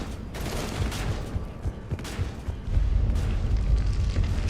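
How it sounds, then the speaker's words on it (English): Dense video game gunfire and booming blasts rumble continuously from a distance, a muffled rolling barrage that swells louder partway through. "Can't even tell what they're shooting at."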